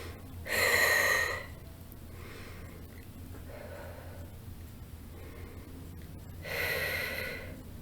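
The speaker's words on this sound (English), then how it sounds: "Take 3 deep breaths." Two deep, forceful breaths taken during a guided meditation, each a loud, close, airy rush lasting about a second, separated by several seconds of quiet, with no talking.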